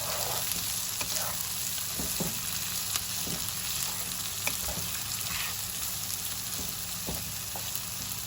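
Onions frying in mustard oil in a pan give a steady close sizzle, with a few soft clinks and stirring knocks scattered through.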